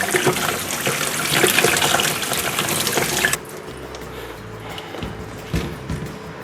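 Tap water runs hard into a sink over vegetables being washed for a few seconds, then cuts off, leaving quieter dripping and light handling sounds.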